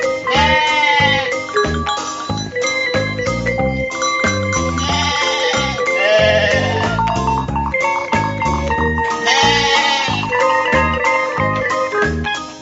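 Sheep and goats bleating repeatedly, several overlapping calls loud and close with no talking.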